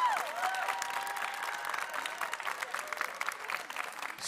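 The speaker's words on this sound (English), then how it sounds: "you deserve a round of applause, parents" School spring concert audience applauds the parents, a roomful of clapping that starts strong and tapers slightly, with a voice over a microphone carrying over it at the start.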